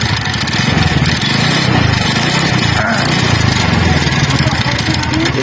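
A TVS NTORQ 125cc scooter engine idles steadily and loudly with a rough, abnormal mechanical rattle, the noise blamed on a loose nut at the one-way gear, running continuously close up with no one speaking.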